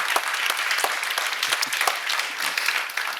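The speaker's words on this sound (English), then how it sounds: "I want to have a big applause for Helmut and Kåre." A conference audience gives sustained applause after an architecture talk, a dense even wash of many hands clapping at moderate volume, with no talking over it.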